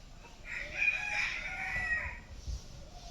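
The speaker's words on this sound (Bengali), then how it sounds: "আপনারা হয়তো বা পাখির ডাক শুনতে পাচ্ছেন কিনা আমি জানি না" A rooster crows in a long, loud call in a shaded bamboo-grove village, with quieter clucks and rustling around it.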